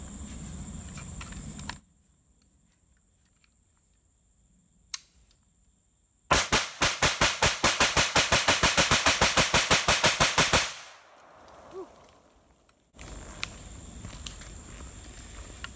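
Rapid burst of about two dozen AK pistol shots fired through a Legion USA muzzle brake, loud sharp cracks in quick even succession, preceded by a single isolated shot and followed by quieter outdoor handling noise.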